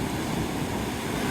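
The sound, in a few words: big waves breaking at Navarre Beach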